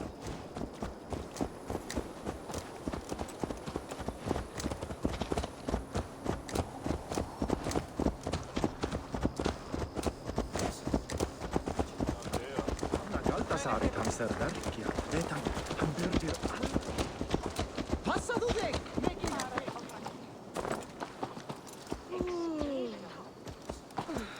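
Horse hooves clip-clop steadily on the ground in the video game Assassin's Creed Valhalla, a rapid continuous rhythm of close hoofbeats that slows near the end as the horse comes to a stop.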